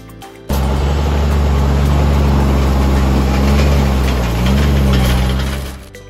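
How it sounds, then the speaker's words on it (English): An International Harvester logging truck with an IHCRD 450D 125GP engine starts and runs loud and near, a steady low throbbing drone with a brief dip in pitch before tailing off. "this truck can keep moving thanks to its IHCRD 450D 125GP engine, producing 93 kilowatts of power"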